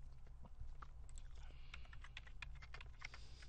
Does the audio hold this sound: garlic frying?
no